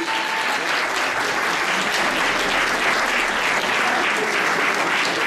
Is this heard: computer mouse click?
no